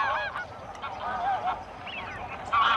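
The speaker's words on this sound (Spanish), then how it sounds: "familias y tribus de gansos nacidos en una amplísima región del norte de Europa" A flock of geese honks repeatedly in overlapping calls, moderately distant, over a soft steady background.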